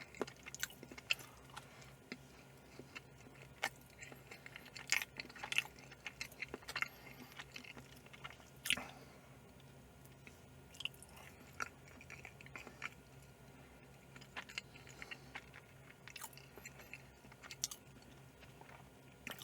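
Someone chews Philadelphia cube cheesecake up close: quiet, soft bites and moist chewing clicks come in irregular bursts against near silence, with no talking.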